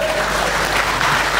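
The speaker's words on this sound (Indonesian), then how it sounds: "Tepuk tangan dulu buat Pak Ono." An audience at a national seminar of teachers applauds, a thick, even roar of clapping hands sustained throughout at close range.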